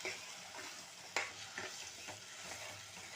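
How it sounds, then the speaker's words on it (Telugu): Ground spice paste frying in oil for brinjal rasam gives a soft, low steady sizzle with a few stirring scrapes and one sharper clack, close and fairly quiet, with no voices. "ఇలాగా మిక్సీ ఆడుకున్న పేస్ట్ వేసి వేయించుకోవాలన్నమాట"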